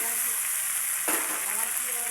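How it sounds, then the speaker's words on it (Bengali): Pasta tipped into a wok over fried vegetables, a steady close sizzle with a brief surge of hiss as the pasta lands, then continued frying. "এই পাস্তাটা ঢেলে দিলাম কড়াইতে"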